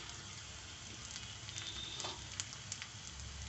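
A dried red chili dropped into onions frying in a pan for beans thoran, giving a soft, steady sizzle with faint crackles and pops throughout, quiet and without any talking.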